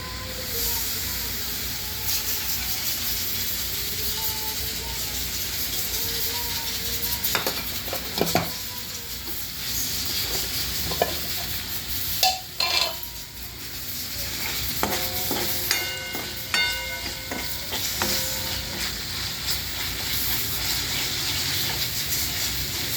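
Masala spices sizzle in oil with a fried paste while a spoon stirs the pan, giving a steady frying hiss broken by scraping strokes and occasional metallic clatter.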